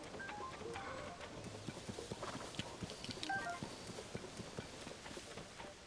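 Horse hooves clip-clopping in The Legend of Zelda: Tears of the Kingdom, a steady string of light, close hoofbeats under faint background game ambience.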